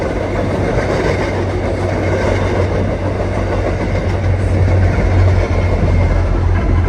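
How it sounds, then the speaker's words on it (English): A train crosses an old stone archway over a canal, rumbling steadily nearby with a continuous low drone and faint rhythmic clatter, loud and unbroken throughout. "train going over an old archway and canal system here."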